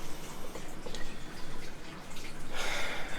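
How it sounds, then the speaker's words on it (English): Water poured from above onto single microgreen trays without drainage holes, a steady close splashing trickle that swells louder near the end, with no talking. "I'm going to have to top water."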